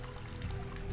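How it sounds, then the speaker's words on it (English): Clean water flows steadily in the horror game Asylum, a soft, continuous pouring and trickling stream heard alone for a brief moment. "There was a steady flow of clean water here."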